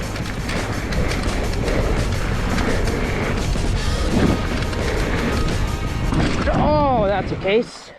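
A mountain bike on a flowy jump trail at a bike park casing a jump, with continuous rolling and wind noise and a hard thud of the wheels slamming the landing near the end, then a voice.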